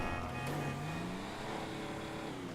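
A large car's engine revs in Grand Theft Auto V, its pitch climbing steadily as it accelerates at a fairly quiet level, with no talk over it.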